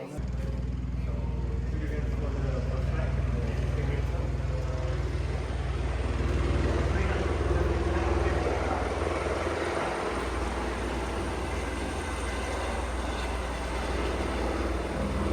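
A helicopter on the Great Ocean Road gives off a loud, steady engine and rotor drone with a deep throb that holds throughout.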